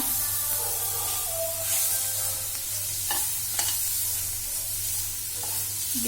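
Tomatoes cook in a hot pan with a steady, close sizzle, broken by a few soft stirring scrapes and taps. No one speaks.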